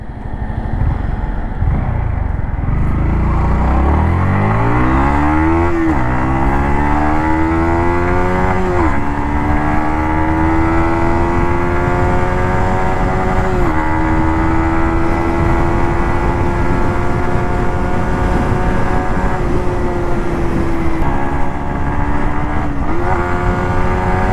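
Engine of a Yamaha MT-15 V2 motorcycle on a road, revved repeatedly through rising and falling pulls with a steady, loud, close-up buzz.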